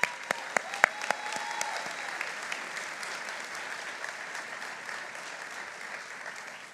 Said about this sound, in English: I just want to give a huge round of applause to all of those who have come in support.